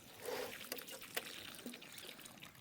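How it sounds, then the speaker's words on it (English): Faint trickling and splashing of water poured onto newly planted courgette and climbing bean plants in well-draining allotment soil, soft and uneven with a few small splashes. "I'm just going to give them some more water."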